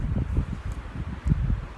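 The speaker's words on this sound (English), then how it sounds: "It's a little windy, so you might hear some of that." Gusty wind in a forest with many fallen trees, heard as uneven low buffeting against the microphone with faint rustling, close and moderately loud, pulsing in irregular bursts.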